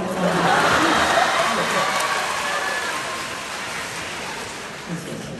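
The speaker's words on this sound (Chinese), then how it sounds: "还有掌声啊！" A theater audience at a Deyunshe crosstalk comedy show in Changsha breaks into dense applause that gradually fades over several seconds.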